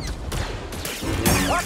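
Blaster fire from enemy shooters in the Star Wars Jedi Survivor video game, a dense burst of rapid cracks and bangs layered with game effects, loud and close, with no voice over it.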